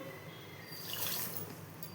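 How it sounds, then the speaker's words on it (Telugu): Water pours briefly into a glass, a soft splashing trickle that swells in the middle and fades, quiet and close. "ఒక హాఫ్ గ్లాసు వాటర్ని వేస్తున్నాను"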